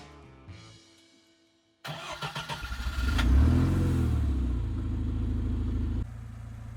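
An Irbis 320 buggy's fuel-injected engine cranks with a rapid stutter, catches and roars up in revs, then settles into a steady, fairly quiet idle close by.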